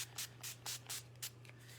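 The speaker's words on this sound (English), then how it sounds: "go ahead and get a setting spray and just spray your face" Makeup setting spray misted onto the face in about six quick bursts, soft close hissing puffs over a faint steady hum.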